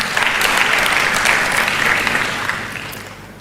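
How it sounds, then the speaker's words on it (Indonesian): Sustained audience applause after a youth leader's speech at a Rembuk Pemuda event: dense, steady clapping that starts loud and tapers slightly over a few seconds, with no voices. "Tepuk tangan sekali lagi."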